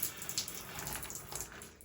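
A faulty tap that won't turn off, running and dripping steadily into a sink, a close, continuous trickle of water with no one speaking.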